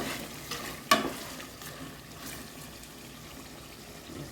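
A spoon stirs mutton tehri in a pan, a soft close clack at the start followed by gentle scraping and a low, faint sizzle with no talking.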